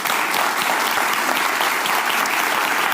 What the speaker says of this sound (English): Now they're clapping.